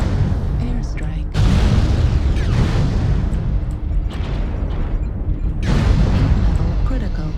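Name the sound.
airstrike explosions in MechWarrior Online video game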